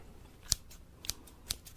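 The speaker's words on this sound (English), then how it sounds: "I also have the scissors of mass tingle destruction." Scissors snipping in a close, quiet ASMR setting, four crisp separate cuts spaced about half a second apart.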